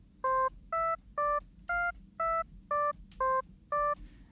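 Ambient Ø synthesizer playing a step sequence of sine-wave notes: nine short, evenly spaced tonal beeps with clean harmonics, each clearly separated by gaps, in a steady rhythm over faint background noise.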